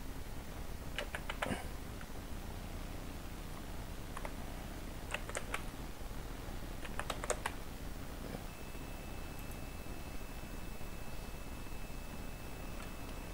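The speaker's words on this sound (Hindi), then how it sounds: "यहाँ मैं लिखता हूँ" Sparse clusters of soft computer keyboard keystrokes tap in short bursts against a steady background hiss, quiet and somewhat distant.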